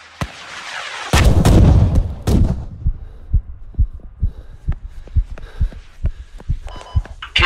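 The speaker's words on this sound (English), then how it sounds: "once the bombardment stops, I'll run over" Heavy artillery shelling in a video game: an opening rumble, then a cluster of loud close blasts around one to three seconds, followed by a steady run of shorter, fainter impacts and thuds.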